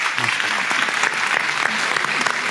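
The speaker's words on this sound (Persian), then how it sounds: "محسن باقرپور عزیزم رو تشویق بکنیم" A studio audience applauds steadily to welcome a young guest who has memorised the Quran, a dense, continuous clatter of many hands at an even level throughout.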